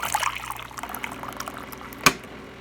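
Water trickles and splashes as it is poured into a pot packed with rice for Mexican rice, a close, light, uneven pour ending in a single sharper splash or clink.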